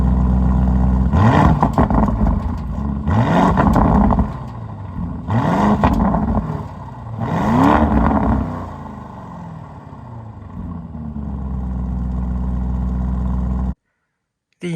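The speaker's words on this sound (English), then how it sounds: "The quad exhaust pipe gives a very beautiful engine noise." A 2022 Lamborghini Urus engine roars through its quad exhaust, rising in four or five strong revving swells with pauses between, then settling into a steady loud drone before cutting out abruptly.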